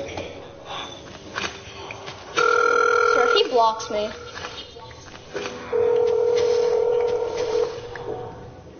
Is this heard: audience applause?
no